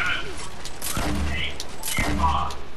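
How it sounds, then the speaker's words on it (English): Gunfire in Fortnite, two heavy bursts about a second apart with a low booming tail, over a steady game background while a player talks. "I'm getting shot from behind or something"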